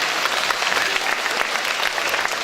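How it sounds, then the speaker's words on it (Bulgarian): An audience at a kindergarten's 30th anniversary celebration claps steadily and loudly for the parents, a dense, even wash of applause from start to finish. "Можем ли всички заедно първо да ръкопляскаме на нашите родители?"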